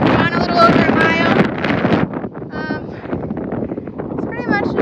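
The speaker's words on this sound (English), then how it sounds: "Super windy still." Strong wind buffets the microphone on a steep mountain hiking trail near Denali National Park, loud gusty roaring throughout, with a person talking and some high squeaky vocal sounds.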